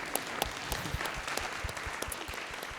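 An audience at a panel discussion on influencers and brand ambassadors applauds steadily for nearly three seconds, a dense, even patter of many clapping hands with no voices over it.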